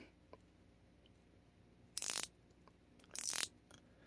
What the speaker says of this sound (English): The Pittsburgh, not for nothing, sounds almost similar to the gear wrench.